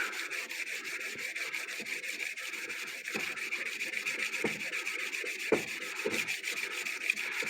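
Steady scraping strokes of sanding on a hard metal rod from a DeWalt planer, a rough rasping rub repeated in a quick rhythm, close up with no talking.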